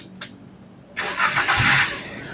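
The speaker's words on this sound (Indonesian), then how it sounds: "Sekarang kita coba nyalakan mobil ya." A 2019 Daihatsu Gran Max 1.3 manual blind van engine cranks and catches, a brief starter whir giving way to a loud, steady idle close by with no talking.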